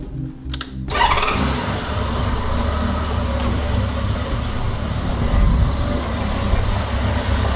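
A click, then a motorcycle engine cranks and fires up during a cooling system flush, settling into a loud, steady running rumble close by.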